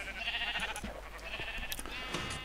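Many Minecraft sheep bleat at once, a busy layered chorus of baas with scattered clicks and taps, moderately loud throughout.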